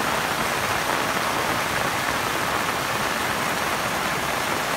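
Steady rain pours down over a rural village, a dense, even hiss of drops on surfaces that holds at the same level throughout, with no voices.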